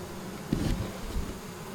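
Bees buzz around a wax beehive as the comb is handled, a faint continuous hum with a brief closer buzz passing near the start and some light handling noise.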